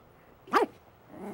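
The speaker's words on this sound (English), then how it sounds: "That dog sure acts like it knows you." A single sharp dog bark, close and clear, and then a second bark starting just as the moment ends.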